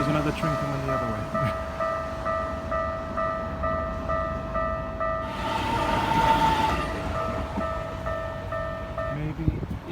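A train passes in the opposite direction at a Japanese railway crossing, its rumble rolling beneath a steady tonal crossing-bell drone, with a louder whooshing swell midway as cars rush by.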